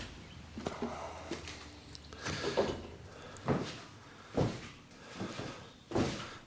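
The door of the screen-used Knight Rider semi truck thuds open and shut several times, each one a heavy clunk or latch bang spaced about a second apart, close by, with small rattles in between.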